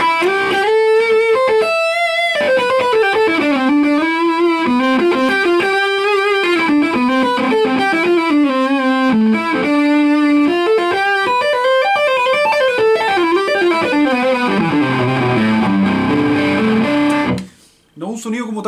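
Chilean-made tube guitar amplifier set to high-gain distortion, a driven electric guitar playing a loud, sustained, saturated melodic line for most of the passage before cutting off abruptly near the end.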